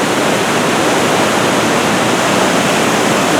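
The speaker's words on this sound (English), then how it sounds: "Warm Springs Waterfall at the start of the falls. And you can hear probably the roar." Warm Springs Waterfall in Alaska roars from close by at the start of the falls, a loud, steady wall of rushing water that holds unchanged throughout.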